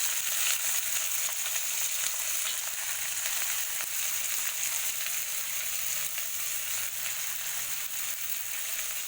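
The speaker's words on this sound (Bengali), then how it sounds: "এবার এতে আমি দিয়ে দেবো কুচিয়ে রাখা একটা বড় সাইজের পেঁয়াজ" Chopped large onion frying with dried red chilli in a hot pan, a steady bright sizzle running unbroken and fairly close throughout.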